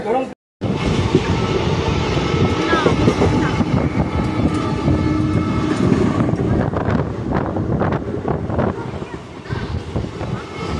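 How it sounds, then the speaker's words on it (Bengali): A train pulls into Bardhaman Junction with a loud, steady rumble of rolling carriages and wind buffeting the microphone, while a voice talks intermittently over the noise. "বর্ধমান জংশনে ট্রেন ঢুকলো, একদম রাইট টাইমে আছে"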